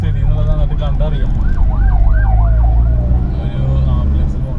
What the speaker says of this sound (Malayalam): ഒരു ആംബുലൻസ് പോകണം, പാവത്തിന് എന്തെങ്കിലും അപകടം വരാണ്ടിരിക്കുക.